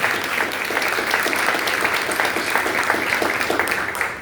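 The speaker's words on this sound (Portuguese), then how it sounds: "Você pode aplaudir ao Senhor?" A church congregation claps and cheers loudly at a worship service, a dense, steady wave of applause that fades slightly at the end.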